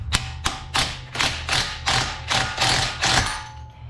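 Eight or nine sharp, ringing hammer blows in a steady rhythm, struck close by on a Racer X control arm while it is knocked loose from a Subaru WRX, with a metallic clang trailing each hit and no talking.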